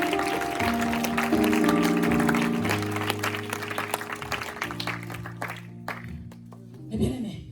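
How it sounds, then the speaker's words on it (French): A church congregation applauds during a Sunday worship service, dense clapping running steadily under sustained music with held tones, fairly loud and continuous throughout. "Acclamons mes bien-aimés pour le courage de notre papa"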